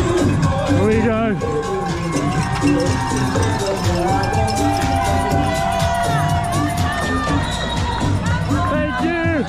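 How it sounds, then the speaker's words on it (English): A large crowd cheers and shouts for runners at the New York Marathon near Central Park, with cowbells clanking and whistles and voices rising around the listener in a loud, continuous roar. "Amazing people cheering your name all the way up."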